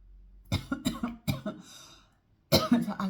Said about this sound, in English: so as I start coughing